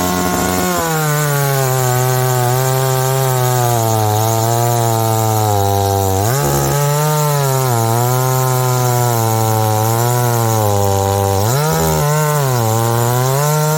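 PINKWAY 63cc gas chainsaw cutting wood under heavy pressure, a loud, close, continuous high whine that sags and bogs down twice, briefly dropping in pitch before recovering.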